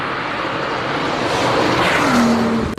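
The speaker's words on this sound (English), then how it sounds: "This is an engine-powered, an ICE-powered BMW going up" An ICE-powered BMW race car climbs a hill climb track at a qualifying event, its engine a loud continuous roar with a rising tone toward the end, heard from trackside.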